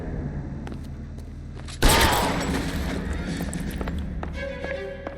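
Gunfire sets off a tannerite explosion in the video game L.A. Noire, a sudden loud blast that decays into a long rumbling tail, preceded by scattered shots over steady game ambience.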